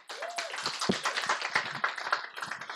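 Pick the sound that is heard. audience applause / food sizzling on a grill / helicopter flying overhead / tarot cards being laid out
audience applause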